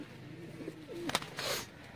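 Racing pigeon on a rooftop in Sialkot, with soft cooing and faint bird calls, a brief sharp flutter-like burst of wings near the middle, and light outdoor background noise.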